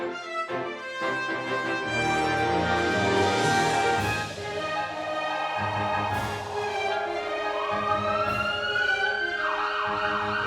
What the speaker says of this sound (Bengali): এ তো দেখছি অ্যাম্বুলেন্সের মেলা বসে গেছে।